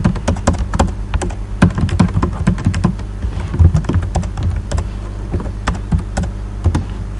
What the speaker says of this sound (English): I'll show you how to do the same thing with using keyboard shortcuts only.